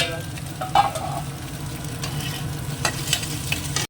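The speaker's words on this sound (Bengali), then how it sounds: "ডিমের ভুজিয়াটা তুলে নিচ্ছি সব সবজিগুলোও দিয়ে দিলাম একে একে" Egg bhujia with peas, carrot, cauliflower, cabbage and green chilli is stirred in a frying pan, a steady low sizzle of frying with soft scraping strokes of the spatula and a few clinks, close and continuous, with no talk over it.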